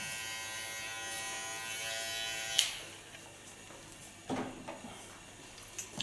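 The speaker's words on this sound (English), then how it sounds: "Comes with two different clippers. This is the large one." A large electric hair clipper buzzes steadily up close for a few seconds, then cuts off and leaves faint handling clicks and rustles.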